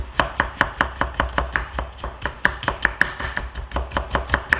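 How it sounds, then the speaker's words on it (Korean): Knife julienning carrot on a cutting board for a brown gravy sauce, a steady run of sharp, evenly spaced chops about four or five per second, close and clear with no talk. "당근도 편을 썰어 채를 썰겠습니다."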